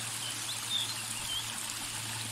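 A small forest stream trickles softly, a faint steady wash of water with a couple of brief high bird chirps above it and no talk.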